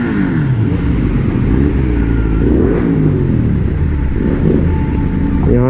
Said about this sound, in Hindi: यहाँ से जाएगी अपनी बाइक ऊपर